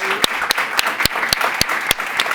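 Sparse, evenly spaced claps ring out over a soft crowd murmur, a thin audience applause with distinct individual hand strikes about every quarter second.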